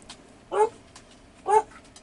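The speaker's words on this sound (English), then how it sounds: "Excuse my dogs, please." Dogs whimper and give short yelping barks indoors, two distinct close bursts about a second apart against a quiet background.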